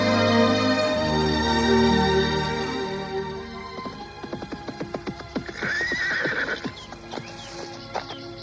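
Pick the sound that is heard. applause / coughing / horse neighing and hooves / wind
horse neighing and hooves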